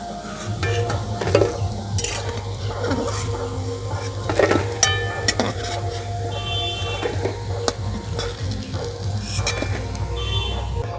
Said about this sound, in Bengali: এইভাবে লাল করে ভেজে নিয়েছি।